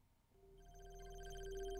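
A stream follow-notification ping chimes during a Castlevania: Dracula X playthrough, a sustained bright tone with ringing overtones that swells and holds for under two seconds, alone without talk.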